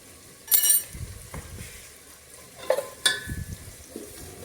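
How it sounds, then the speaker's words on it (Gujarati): Garlic frying in hot oil for Kathiyawadi tawo undhiyu, a low sizzle broken by a few sharp bursts of stirring and metallic clinks of a spoon against the pan, with no talking. "આ લસણને કકડી જાય"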